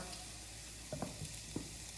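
Chatti pathiri, a layered Malabar pastry, cooking slowly in a heated pan as a faint, steady low sizzle with a few soft taps and clinks, quiet and close, no talking.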